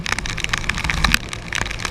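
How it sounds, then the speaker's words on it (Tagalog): Heavy rain drums on a car while driving home in a downpour, a dense steady patter with scattered louder drops close overhead, with low road rumble underneath and no voices. "Tip para mga katoto pag malakas ang ulan"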